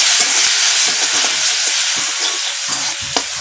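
Chopped onions dropped into hot oil left from frying eggplant, giving a loud, steady sizzle and hiss close up with occasional stirring scrapes.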